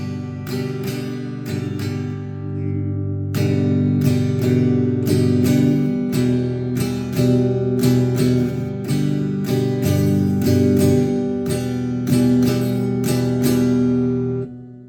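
Clean Fender-style tone from a Squier Mini Strat electric guitar strummed through an amplifier, bright chords ringing steadily with a brief pause early on, no voices.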